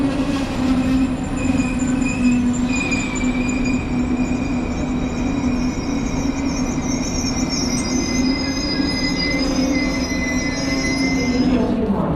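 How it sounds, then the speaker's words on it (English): A Deutsche Bahn ICE train rolls into a platform with loud, sustained metallic wheel squeals over a constant rumble, filling the whole stretch without pause. "Caution, the train is arriving."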